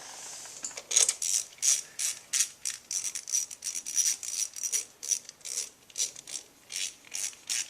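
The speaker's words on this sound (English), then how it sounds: "Alright, run your screws in." A hand ratchet clicks in quick, rhythmic bursts as screws are driven into the charging rotor cover of a Honda CB650 motorcycle, with the close pawl chatter repeating steadily throughout.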